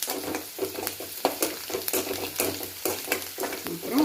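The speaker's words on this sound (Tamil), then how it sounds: "கொஞ்சம் ஹை ஃப்ளேமில் வச்சுட்டு நல்லா வதக்கிக்கலாம்." Onions sautéing over a high flame in a pan for a black chickpea snack, a constant sizzle broken by repeated rhythmic scraping strokes of a stirring spoon, close and fairly loud, with no talking.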